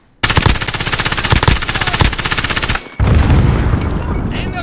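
Rapid automatic gunfire in Call of Duty Warzone, a loud, dense machine-gun burst lasting several seconds, a brief pause, then more chaotic shooting and explosive clatter.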